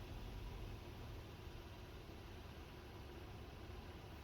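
A car engine idles steadily with a low, even rumble, constant and moderately close, with no voices over it.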